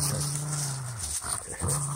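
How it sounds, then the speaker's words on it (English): An Airedale terrier puppy growls low and steadily near a fire, a continuous rumbling tone with a brief break before it resumes, close and moderately loud. "You're all growl, dude."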